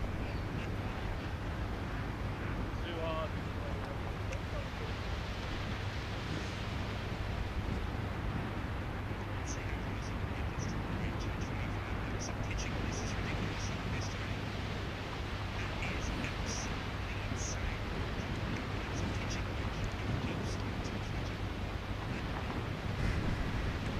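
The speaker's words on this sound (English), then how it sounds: "It's so windy." Strong wind buffets the microphone on a seaside links golf course during the final day of the Scottish Open, a steady roaring rush with surf-like noise throughout and faint distant sounds above it.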